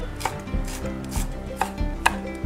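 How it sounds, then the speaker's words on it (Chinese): Knife chopping fresh ginger into fine shreds on a cutting board for a spicy stir-fried sea snail dish, steady close rhythmic thuds, about five or six firm chops with faint rubbing between, no talking. "切姜丝"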